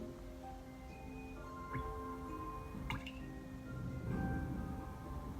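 Water drops falling one after another into a puddle, each giving a faint, soft plink, with a quiet liquid background and a few sharper tick-like hits spread across the stretch.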